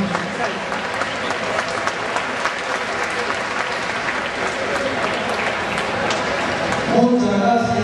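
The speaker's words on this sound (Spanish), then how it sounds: "Fuerte aplauso." Loud, sustained audience applause at a 50th anniversary celebration of a Spanish-speaking Asturian cultural centre, a dense steady clatter of many hands clapping close by that swells slightly near the end.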